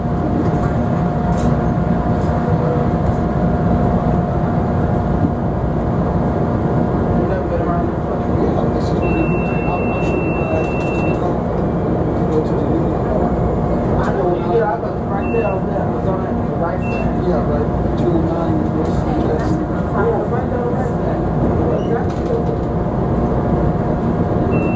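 A CTA Orange Line elevated train runs through the Chicago Loop, its wheels and motors rumbling steadily with rail squeals and rattles, while a voice speaks over the continuous ride noise.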